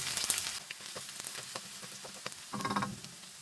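Chopped garlic frying in two tablespoons of hot oil in a kadai, a soft steady sizzle with faint stirring scrapes close by, no talk.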